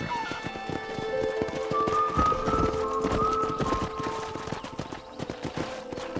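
Horses gallop in the Western video game Red Dead Redemption, a steady rapid clatter of hoofbeats with a whinny, mixed with tonal in-game sounds at moderate level throughout.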